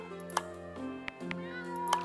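A video game cat meows a few times over a background of steady musical tones, each meow short and clear.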